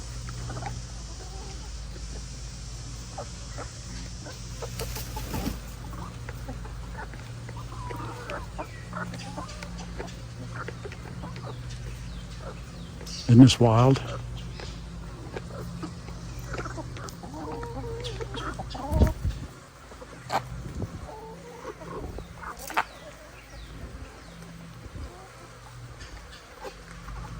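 Chickens cluck and murmur continuously nearby, with a few louder squawks partway through, while a person speaks briefly over the flock.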